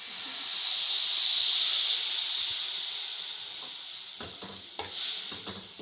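Milk pours into a pan of coconut roasting for coconut ladoos, giving a steady hiss and sizzle that swells and slowly fades, with a few sharper clatters of stirring near the end.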